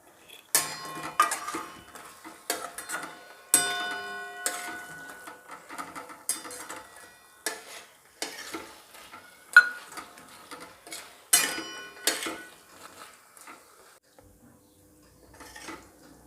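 Fried idli being stirred into Manchurian sauce in a pan, heard as sparse, crisp clinks and scrapes of a utensil against metal, coming in irregular bursts with quiet gaps between them.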